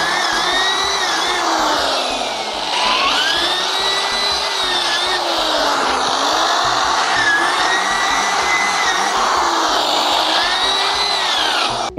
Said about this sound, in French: une fois que j'ai percé le deuxième pneu sur les 2 faces